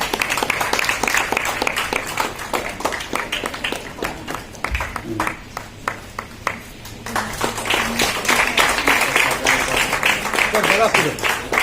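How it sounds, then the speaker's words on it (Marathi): A crowd at a superstition-eradication committee gathering claps heartily in a sustained wave of applause that swells and ebbs, with a voice speaking over the clapping partway through. "जोरदार टाळ्या वाजवा."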